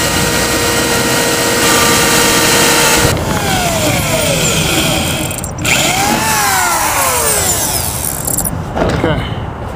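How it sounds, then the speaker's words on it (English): A power drill bores through a carport roof and a metal support pole. It whines and revs in rising and falling bursts over steady mechanical noise, loud and close. "what you're drilling is drilling actually through the roof and through the pole right here"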